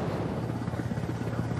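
Ukrainian combat helicopter in flight, a loud continuous rotor throb with rapid low pulsing and wind rush, steady throughout with no talk.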